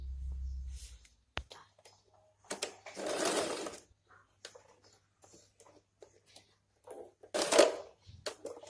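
A sewing machine stitches a pleat into a pair of trousers in two or three short, close bursts, with someone talking softly between them.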